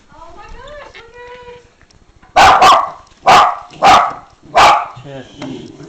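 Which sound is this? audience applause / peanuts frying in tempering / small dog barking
small dog barking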